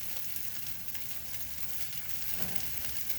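Egg scrambling and frying in a pan for fried rice: a steady, close sizzle and crackle runs throughout, with faint stirring scrapes under it and no talking.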